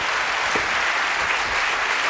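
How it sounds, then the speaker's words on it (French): Studio audience applauding on a French TV talk show, a dense, steady wash of clapping from many hands that holds loud and even throughout, with no voices standing out. "Sous vos applaudissements, bien entendu, immédiatement."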